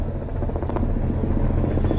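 A police helicopter's rotor and engine make a steady, loud, continuous drone with a faint rhythmic beat, heard alone without talk.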